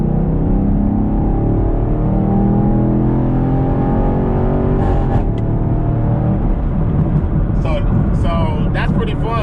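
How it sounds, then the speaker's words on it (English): A 6th-generation Chevrolet Camaro accelerates on a highway from third gear using a no-lift shift, a loud continuous engine roar rising in pitch and then briefly breaking at the shift, with a voice heard faintly in the latter part. "I'm about to show you guys a pull on how to do the no-lift shift real quick"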